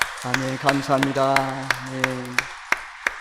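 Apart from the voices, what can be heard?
congregation applauding in church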